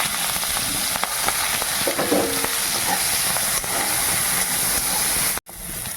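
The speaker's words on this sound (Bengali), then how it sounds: "পেঁয়াজ, রসুন, লঙ্কা ভাজা হয়ে গেছে।" Onion, garlic and green chillies sizzle steadily in hot oil, a continuous close frying hiss with a few faint stirring scrapes and a brief dropout near the end.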